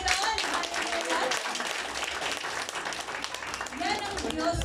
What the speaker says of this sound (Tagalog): Isang malakas sa palakpak sa Panginoon.